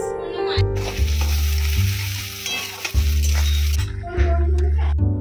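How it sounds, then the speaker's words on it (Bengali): Chicken frying and sizzling in a pan, stirred with clinking utensil strikes in repeated bursts across the clip, close and steady with no talk. "চিকেনটা এখন আমরা রান্না করবো গাইস"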